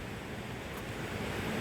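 Sea waves washing onto the shore in Zamboanga del Norte, Philippines: a continuous broad roar of surf with wind buffeting the microphone, steady and close, no talking.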